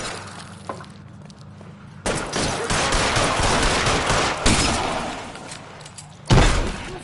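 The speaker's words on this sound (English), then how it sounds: "Keep shooting. I want him dead." Gunfire in L.A. Noire roars in a dense, sustained fusillade during a shootout, broken by a few sharp, loud blasts, with the heaviest burst near the end.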